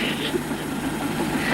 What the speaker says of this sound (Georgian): კარგი შვილო მოვიდა მატარებელი